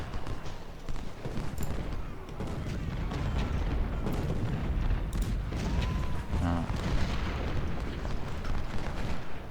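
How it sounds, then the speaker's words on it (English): Artillery shells fire and burst in Ultimate General: Civil War, a dense rolling barrage of booms and crackling impacts that goes on continuously, with a brief whistling tone partway through. "At this range it's going to be shell fire"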